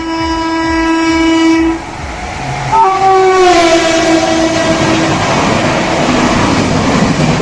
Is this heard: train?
yes